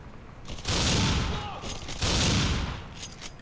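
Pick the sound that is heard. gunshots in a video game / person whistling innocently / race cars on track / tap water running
gunshots in a video game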